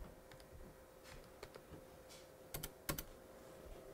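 Sparse keystrokes on a Commodore 64x computer keyboard, a few scattered quiet taps followed by a couple of sharper clustered clicks near the end, heard close over a low steady hum with no talking.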